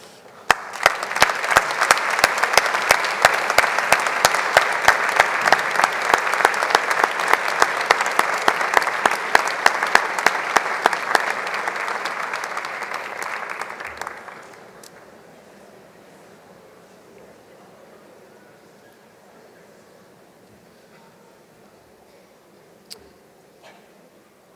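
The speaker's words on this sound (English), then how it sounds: "show our appreciation for you with a round of applause" A graduation commencement audience for an architecture, planning and design school applauds, dense, steady clapping for about fourteen seconds that then fades away into near silence with a few faint stray claps.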